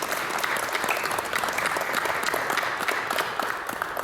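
A room of attendees at a researchers' assembly breaks into a big round of applause, dense steady clapping throughout, moderately loud and close, with no voices over it.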